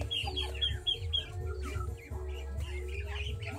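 Chickens cluck and call repeatedly at close range while feeding on green fodder mixed with rice bran, with overlapping bird sounds and no talk.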